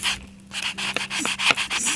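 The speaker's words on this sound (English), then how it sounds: "just sanding it a little bit" Sandpaper scuffs across a sticker in a craft journal with a few quick, close, dry rasping strokes, short and uneven, alone in a quiet room.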